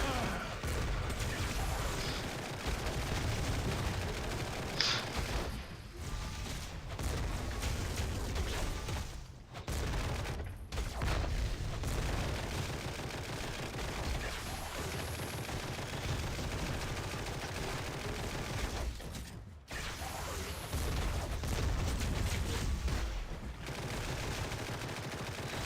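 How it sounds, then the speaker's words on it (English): Sustained video game gunfire as Nick Fury empties his clip with Open Fire, rapid continuous shots with a few brief pauses, mixed with game effects and background music. "we're going to empty our clip with our Open Fire"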